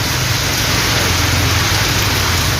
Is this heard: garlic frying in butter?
no